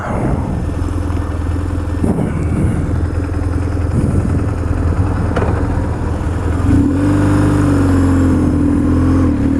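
A BMW R1150GS motorcycle engine rumbles loudly up close, with uneven revs and blips before settling into a steadier rising drone as the bike pulls away in first gear.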